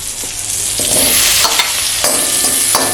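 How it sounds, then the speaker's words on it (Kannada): Capsicum frying in butter over a high flame, a loud steady sizzle with occasional stirring scrapes and clinks, close up and without talk. "ಕ್ಯಾಪ್ಸಿಕಮ್ ಉಂಟಲ್ಲ, ಅದನ್ನ ಸ್ವಲ್ಪ ಫ್ರೈ ಮಾಡ್ಕೊಳ್ತೇನೆ ಹೈ ಫ್ಲೇಮಲ್ಲಿ"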